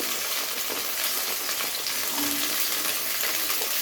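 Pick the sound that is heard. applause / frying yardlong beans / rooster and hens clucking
frying yardlong beans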